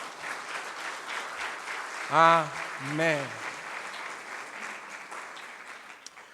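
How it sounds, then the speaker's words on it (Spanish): A church congregation claps steadily through a worship service as an offering of applause to God, moderately loud and sustained, with a preacher's voice speaking over it and two louder vocal swells partway through. "Dele una ofrenda de palmas al Señor."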